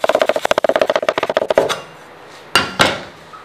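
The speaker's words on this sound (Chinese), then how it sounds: "切一点葱姜。" A knife chops scallion and ginger on a board in a fast, even run of about twenty close, crisp strokes, then pauses before two louder, separate chops.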